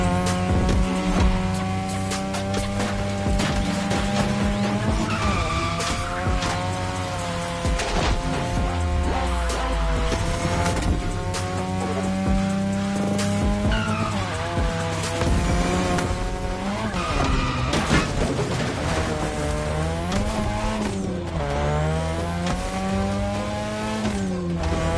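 Race cars in The Crew Motorfest roar and rev continuously while tires squeal and skid through corners, engine pitch rising and falling in loud, unbroken waves with no talk over it.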